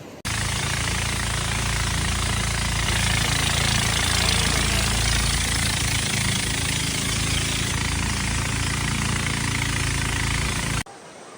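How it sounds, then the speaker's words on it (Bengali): Boat engine on a trip toward Bandarban waterfalls in the monsoon: a loud, steady, close-up mechanical drone with rough rattling texture that runs unbroken for about ten seconds and then cuts off abruptly. "আমরা সামনে এগিয়ে যাব এই নৌকার মাধ্যমে"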